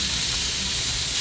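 Burgers sizzle on a buttered griddle grate, a loud, steady, close frying hiss that fills the whole moment without pause.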